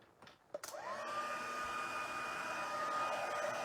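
A craft heat tool kicks on after a couple of soft clicks and blows steadily to melt embossing powder, a constant whirring fan hiss with a high whine, close and uninterrupted.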